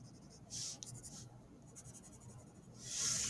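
Pencil shading fills small triangles on a Zentangle pen-and-ink drawing, giving faint, soft scratchy strokes in short bursts over a quiet background, with a slightly louder scrape at the end.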